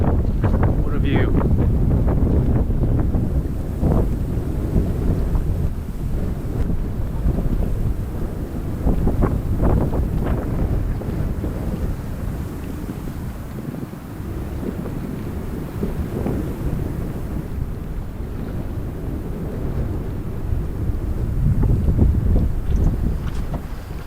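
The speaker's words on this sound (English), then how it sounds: "Canoe gets pushed around in this wind." Strong wind gusting around a canoe on a wilderness lake, loud buffeting and rumbling across the microphone throughout, with water noise underneath and a voice occasionally heard through the roar.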